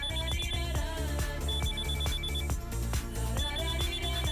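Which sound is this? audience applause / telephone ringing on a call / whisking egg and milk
telephone ringing on a call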